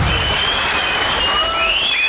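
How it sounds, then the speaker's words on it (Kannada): A crowd bursts into dense, loud applause with scattered whistles, cheering a birthday wish at a Kannada film teaser launch event; the clapping stays steady and unbroken throughout. "ನಿಮ್ಮೆಲ್ಲರ ಜೋರು ಚಪ್ಪಾಳೆ ಮೂಲಕ ಅವರಿಗೆ ಹುಟ್ಟುಹಬ್ಬದ ಶುಭಾಶಯಗಳನ್ನ ಹೇಳ್ತೀನಿ"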